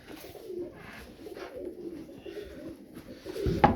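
Pigeons coo softly and steadily in an enclosed loft, a low murmuring drone with a brief rustle near the end.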